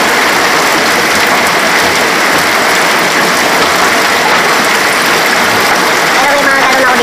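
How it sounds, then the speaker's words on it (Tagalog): Steady, loud rain pours down outdoors, a dense unbroken hiss of drops on surfaces with a faint engine rumble beneath, while someone collects rainwater in gallon containers for bathing. "Ngayon, nagtataon din na umulan."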